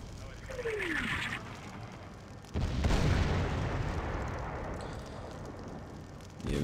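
Gunfire and explosive blasts from a Chechnya mod battle for Grozny, with a loud heavy boom midway followed by sustained rumbling combat noise and scattered distant shots.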